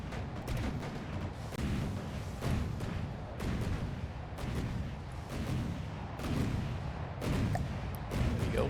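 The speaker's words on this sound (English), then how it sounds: "So on to bullying a Marauder. Torpedoes go off." Torpedoes launching from a Marauder in a vehicle combat game: a series of loud, booming blasts and thuds repeating at irregular intervals, each rumbling briefly before the next.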